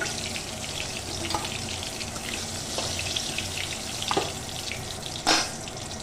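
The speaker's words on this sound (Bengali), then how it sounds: "এবার আমি বাকি মাছটা এর কড়াইতে দিয়ে দেব আর ভালো করে সাঁতলে নেব" Oil sizzles and crackles steadily in a wok as small puti fish fry, with a few sharp clinks and scrapes of a utensil against the metal.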